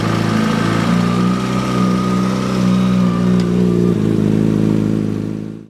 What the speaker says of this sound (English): Then at the same time, apply some little gas by twisting the throttle slowly and gently.